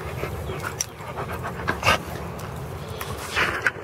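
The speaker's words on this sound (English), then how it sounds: "Just playing around with the dogs." Dogs during a training session pant steadily, with a few short whimpers and yips over the top. The sounds are close and moderately loud, and nobody speaks.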